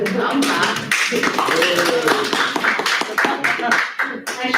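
People clap briefly at a school district board meeting after a unanimous vote, scattered uneven claps mixed with voices talking and murmuring over them.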